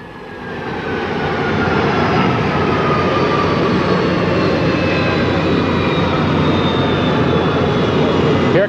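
The presidential Boeing 707 jet on the ground in San Diego in 1963 gives off a loud, continuous engine roar with a high whine, steady and close, with no one speaking over it.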